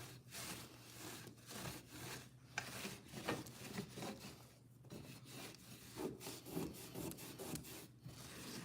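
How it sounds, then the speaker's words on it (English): A wet rag rubs colored wax off a tile surface in steady back-and-forth strokes, a close, continuous scraping swish with no talking. "I'm gonna try a wet rag and see, because it's a little heavier than I want."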